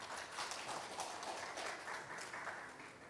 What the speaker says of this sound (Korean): 예, 박수 한번 주십시오.